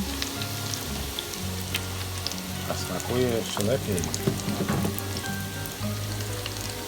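Breaded zucchini frying in a pan of oil, a steady crackling sizzle beneath someone speaking, with a few louder bursts of spattering midway.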